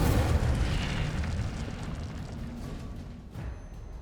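The Incendio fire spell being cast in the video game Hogwarts Legacy makes a loud, close whooshing burst of flame that roars at the start and then fades into a rumbling crackle.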